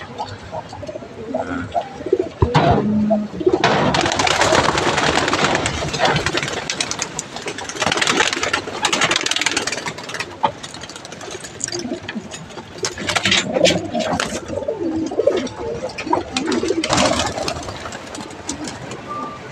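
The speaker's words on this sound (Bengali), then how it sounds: "পুরা ছাদটা ভরে গেল কবুতরে" Pigeons coo continuously on a rooftop against a steady mechanical, engine-like drone, with occasional wing flutters and scuffles close by.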